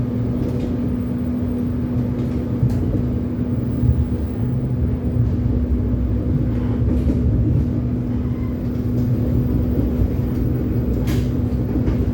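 A train rumbles steadily as it slows on the approach to Padalarang station, holding at a signal. A low, continuous rolling drone with a faint hum runs throughout, with no voices.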